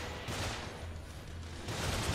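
Rapid gunfire from a weapon in the survival horror game The Evil Within, a dense, steady rattle of shots that runs unbroken for about two seconds at a fairly low, even level.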